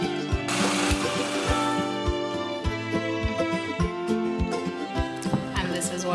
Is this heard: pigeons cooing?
no